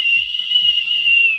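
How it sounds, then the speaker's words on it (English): A person whistles a single sustained, steady high note lasting about a second and a half, loud and close, with faint rhythmic thumps underneath. "Do a whistle and wave at the same time."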